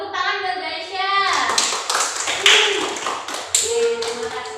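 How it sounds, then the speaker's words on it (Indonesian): Classroom applause for a student named Aisyah during a micro-teaching accounting lesson, a burst of many hands clapping close by, mixed with a speaking voice at the start and chatter throughout. "Tepuk tangan buat Aisyah."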